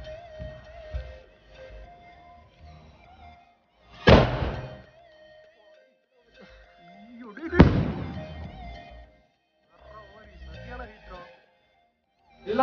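A 4-inch pipe firework shell, one of several sky-bursting fireworks, launches and explodes outdoors with two sharp loud booms about three seconds apart, then a fainter pop near the end. People talk between the blasts.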